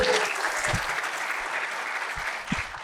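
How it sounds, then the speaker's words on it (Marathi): Audience applause at a Marathi comedy show, a steady wash of many hands clapping together for nearly three seconds, loud and sustained with a few thumps and no voices on top. "एकदा जोरदार टाळ्या मित्रांनो"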